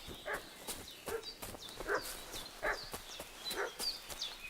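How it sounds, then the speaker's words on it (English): A dog in the video game Kingdom Come: Deliverance 2 barks in a repeated series of sharp yaps, about one every second, over a faint ambient bed with light chirping. "What's that dog making such a fuss about?"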